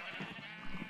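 A sheep bleats in the Minecraft video game, one short, fairly faint bleat set against a busy wash of game background sound.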